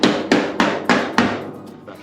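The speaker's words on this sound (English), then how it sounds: "to make this a little flatter, we might just take a hammer to it" Hammer striking a Jeep Wagoneer fender flare to flatten it, five sharp, loud, evenly spaced metallic blows ringing out, followed by a lighter tap, with no talk.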